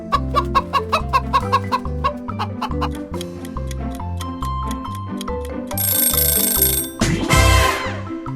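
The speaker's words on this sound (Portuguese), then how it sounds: "Uma galinha." A chicken clucks in a quick series of short calls over music with a ticking beat, followed by bright ringing and a rising burst near the end.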